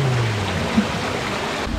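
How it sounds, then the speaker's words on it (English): A soft, steady rush of trickling water, a small waterfall pouring into a private pool on a cruise ship, continuous and even. "Now we have our own little private pool with a trickly waterfall noise."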